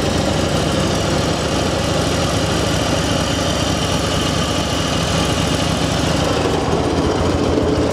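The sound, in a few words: Harley Davidson Road King motorcycle engine idling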